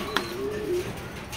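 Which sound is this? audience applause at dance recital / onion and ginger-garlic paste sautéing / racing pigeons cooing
racing pigeons cooing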